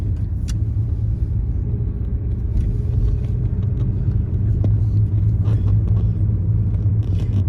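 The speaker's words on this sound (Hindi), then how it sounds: "जान लगा दी गाड़ी ने भी पूरी" A car engine strains as the vehicle climbs a steep uphill road, a loud continuous low rumble with steady motor drone and occasional light scrapes, heard alone without talk.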